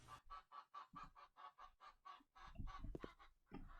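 A run of rhythmic, regular chicken calls from the indie video game Into Darkness, honking-clucking like fowl, repeated about a dozen times, with louder thumping noises toward the end.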